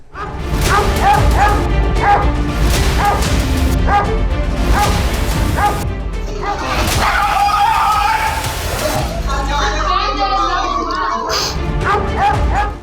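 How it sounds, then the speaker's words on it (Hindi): Street dogs in an Indian city barking and yipping repeatedly, loud and close, with whimpers and a crash-like thump, and voices speaking over the noise. "सारे जो ये आप स्ट्रीट डॉग देख रहे हैं ये वैक्सीनेटेड है।"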